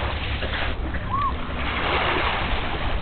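Small waves splash and wash against a boat at Luther Burbank Park, a close, steady watery rush with no clear individual breaks.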